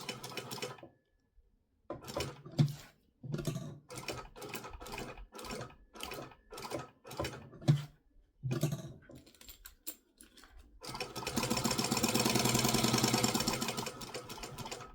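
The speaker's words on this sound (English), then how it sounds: "So instead of back stitching this time, I'm going to stitch all the way around." A sewing machine stitches all the way around a handmade phone sling, first in short stop-start bursts, then one longer continuous run of rapid stitching near the end, close and alone.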